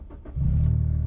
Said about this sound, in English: Push that engine start button and then the K-Series just wakes up.